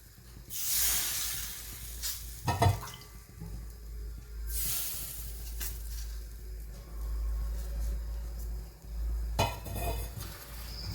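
A hot griddle hisses and sizzles in three strong bursts that fade between as bhakri flatbread cooks, with a few light clinks of utensils and no voices.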